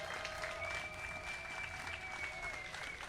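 An audience at a memorial art unveiling claps steadily for two honorees. The applause sounds faint and distant, with a high whistle-like tone running over it.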